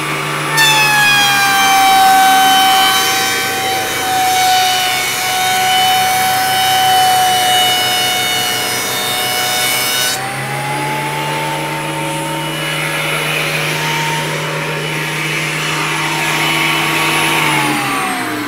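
A thicknesser planer runs with a steady, loud machine whine while wood is fed through the Stanton CNC bench setup, its pitch dropping partway as the cutters bite, continuous and alone without talk.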